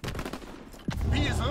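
Short bursts of rapid gunfire in a WW2 battle video game, crackling shots with a sharper crack near the middle, then a busier clatter building under faint background voices.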